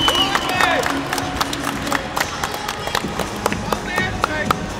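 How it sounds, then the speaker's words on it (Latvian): A crowd at a basketball playoff quarter-final breaks into loud, sustained clapping and applause, dense rapid hand claps close up, with shouts and voices mixed in throughout. "milzīgas aplauzes BK Rektupuši čaļiem"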